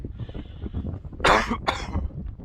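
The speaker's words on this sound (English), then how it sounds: "Oh, still got a cough." Two harsh, close coughs break out one right after the other over a low background hum.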